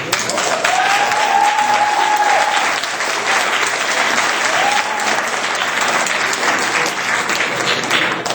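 Audience applause at a 2010 congressional campaign event, a steady dense wash of clapping that stays loud and even for over eight seconds, with a few cheers rising through it.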